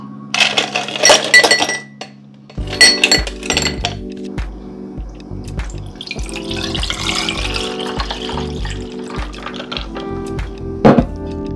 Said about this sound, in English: Now I'm gonna get some ice because you want to drink this chill.